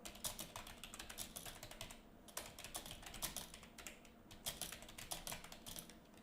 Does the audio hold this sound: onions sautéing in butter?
no